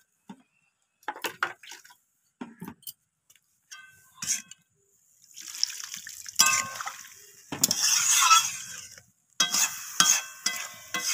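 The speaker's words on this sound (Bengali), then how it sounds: "তো এরপর আমি এখানে জল অ্যাড করে দিলাম প্রয়োজন মতো।" Water pours into a pan of bean, potato and cauliflower curry, bringing a burst of sizzling and bubbling after some scattered stirring and clinks. The hiss swells loudly in the second half, close up and without talk.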